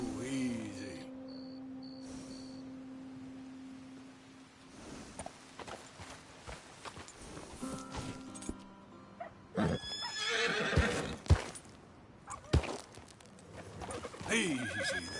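A horse in Red Dead Redemption 2 whinnies and snorts, then walks with clopping hooves and harness jingles amid game ambience and music, fairly close, with a voice speaking at times.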